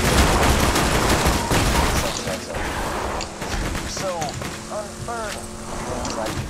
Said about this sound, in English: Shoot your guns! Shoot them!